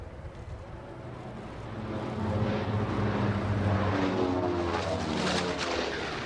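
A low, droning aircraft engine roar swells in from a distance and grows steadily louder, holding as a broad, sustained rumble with shifting tones as it passes overhead.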